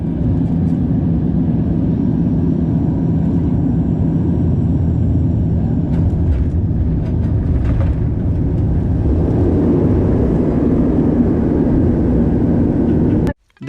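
Cabin of an Olympic Air Dash 8 turboprop on final approach to Zagreb, a loud, steady low engine drone filling the whole stretch, with no voices and a sudden cut at the end.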